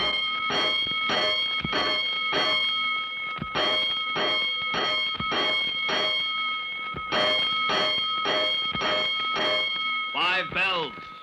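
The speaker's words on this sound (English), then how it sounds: "A 5-alarm fire. 5 bells." Fire alarm bells ring in loud, repeated, evenly spaced clangs, about a dozen strokes with a bright metallic ring, ending in a brief warbling tone.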